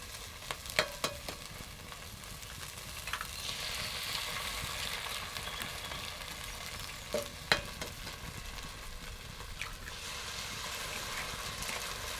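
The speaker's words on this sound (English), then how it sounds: "There's both the eggs in, give them a lovely stir." Eggs frying with wild garlic in a pan over an outdoor wilderness cooking setup, a continuous gentle sizzle with scraping stirs and a few sharp clinks of the utensil against the pan.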